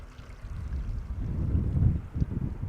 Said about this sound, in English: If you're wondering why am I hearing water